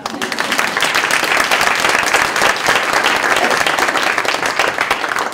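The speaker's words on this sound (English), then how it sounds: "We'll just end with a round of applause for our folks." Loud, sustained applause from an audience at a school parent coffee gathering, many hands clapping densely and evenly from start to finish, with faint voices mixed underneath.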